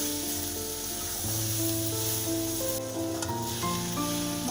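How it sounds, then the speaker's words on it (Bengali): Spices sizzle with potato and eggplant in a pan for mourola fish chorchori, a continuous soft frying hiss with faint stirring, alone and fairly quiet, with a steady tonal hum beneath. "মশলাগুলো দিয়ে ভালো করে আলু বেগুনের সাথে কষিয়ে নিচ্ছি"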